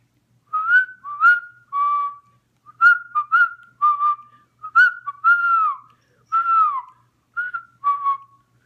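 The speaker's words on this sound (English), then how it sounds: "She'll whistle that tune." A person whistles a tune in clear, close melodic phrases, short bursts separated by brief pauses, with no talking.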